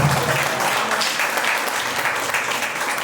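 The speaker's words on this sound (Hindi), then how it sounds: "प्रभु के जोरदार ताली बजाओ।" A church congregation applauding during a sermon, steady dense clapping from a large crowd throughout, loud and continuous with no pauses.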